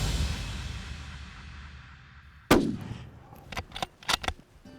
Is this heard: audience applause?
no